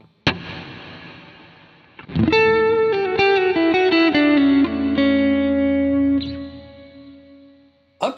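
A bass guitar played through a Headrush Prime with a giant cathedral reverb rings out in sustained, shimmering notes that bloom and smear into a long, washy tail, loud and alone after a brief initial pluck.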